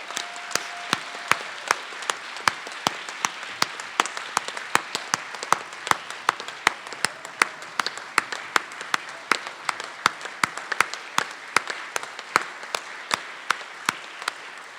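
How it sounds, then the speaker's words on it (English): Audience at a Distinguished Faculty Awards ceremony claps for the evening's awardees. Scattered, individually distinct hand claps come from a modest crowd at a fairly quiet level and hold a loose, uneven rhythm throughout. "Let's give a round of applause to all of our awardees this evening."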